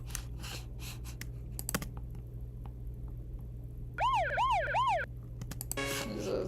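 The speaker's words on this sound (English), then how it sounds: "there's a siren I got from sound effects" A stock Logic sound-effect siren within a music track, wailing up and down in steady loud cycles for about a second, set among clicking, tapping percussive sounds and a constant low hum.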